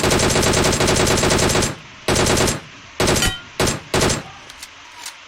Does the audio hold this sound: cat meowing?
no